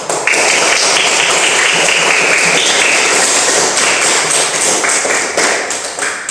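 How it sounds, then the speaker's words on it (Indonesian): A school audience claps loudly and continuously for several seconds, a dense, even wash of many hands with no talking over it. "Mari kita beri tepuk tangan untuk kita semua."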